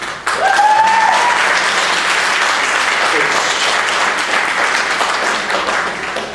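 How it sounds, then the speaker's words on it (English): Loud, sustained applause fills the room from a large audience, holding steady for over six seconds, with a whistle rising briefly near the start. "Now, you need to give a round of applause to this one"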